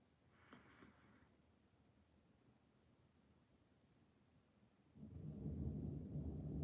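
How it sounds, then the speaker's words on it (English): Thunder during a storm, a faint distant rumble early on followed by a louder, broad low roll that builds and sustains at the close, heard alone without speech. "Y'all hear the thunder?"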